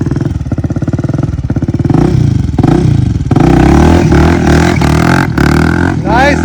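A motorcycle engine revs hard during stunt riding, pulsing throttle surges rising and falling loudly up close, with a voice coming through in places.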